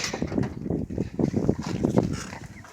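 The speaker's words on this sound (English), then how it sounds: "This wind's picking up." Wind picking up outdoors, a steady rushing gusty roar buffeting the microphone with swelling surges throughout, loud and close.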